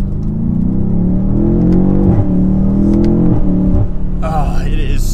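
A 2022 BMW M8 Competition Gran Coupe accelerates hard from inside the cabin, its engine note climbing through repeated gear-change dips in a loud, steady roar, with a brief higher whine near the end.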